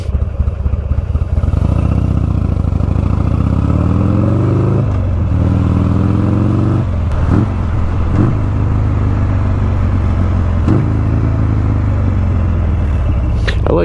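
Buell motorcycle engine revving through rev-matched downshifts while riding, a loud steady rumble with rising and falling pitch sweeps and several sharp blips of throttle, close and continuous throughout.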